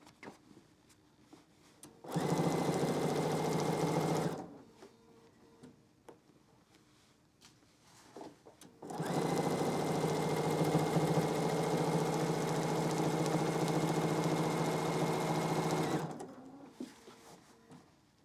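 A sewing machine quilting a cuddle fleece back runs in two steady bursts, a short one and then a longer one, with quiet handling and faint rustles between them.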